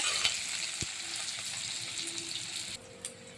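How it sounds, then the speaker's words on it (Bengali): Chopped onions fry in a pan with hot oil, a steady close sizzle with faint stirring clicks that drops to a quieter hiss near the end. "পেঁয়াজ কুচি দিয়েছি একটু ভাজা ভাজা করব দেখুন একটু ভাজা হোক"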